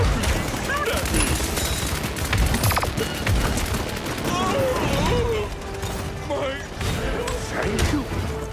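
Dense video-game gunfire in Grover gameplay rattles in near-continuous bursts of shots and impacts, loud and busy throughout, mixed with game voices and effects.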